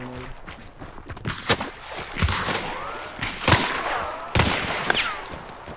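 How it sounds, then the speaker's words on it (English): Shotgun fire in the Hunt: Showdown game, several loud, spaced booming shots with echoing tails over ambient background and thuds, no talk. "Shotgun."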